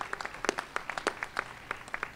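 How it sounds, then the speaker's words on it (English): Scattered applause from a modest audience at a business announcement event in Virginia, irregular claps fairly distant and light over about two seconds. "If we could give Norfolk a great round of applause, appreciate them for all that they do."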